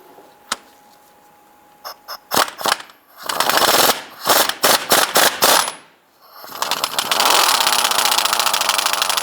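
An air tool loosens the harmonic balancer center bolt on a 2002-2008 Dodge Ram 1500 with a 22mm socket, sounding as several sharp hammering bursts with short pauses, then one longer steady run. Close and loud, with no speech.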